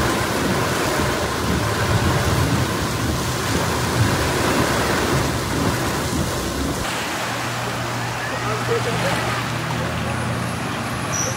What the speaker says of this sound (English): rain slams the region